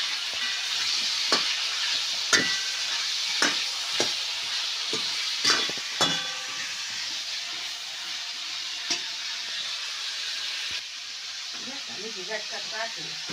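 Green chillies and curry leaves fry in hot oil in a home kitchen for drumstick curry, a steady loud sizzle punctuated by sharp spatters and a few stirring scrapes.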